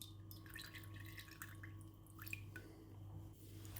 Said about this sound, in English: give the curds in your cloth a little bit of a squeeze if you can. Squeezing out some of that liquid.